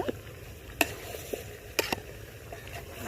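Chicken curry being stirred in a pot, with a soft steady sizzle underneath and a few sharp scrapes and clinks of the spoon against the pot, spaced out and close.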